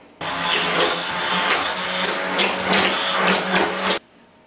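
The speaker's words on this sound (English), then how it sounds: "I'm going to mix this once with a hand blender." A hand blender whirs through jaggery syrup, thandai and milk, a loud, steady motorized buzz that starts abruptly, holds for about four seconds and cuts off, with no voices.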